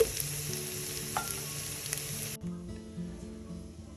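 A pot of roasted butternut squash and apple soup cooks down on the stove, giving a steady, close sizzle and bubbling hiss that runs throughout, with no one talking.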